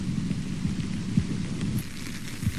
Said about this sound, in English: the rain really started to come down.